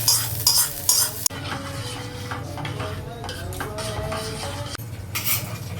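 Ghee-fried vermicelli stirred into milk in a metal pot, a ladle scraping and clinking against the pot repeatedly over a low simmering sizzle, close and steady.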